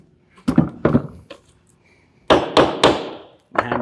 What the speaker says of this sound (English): And hammer it into place.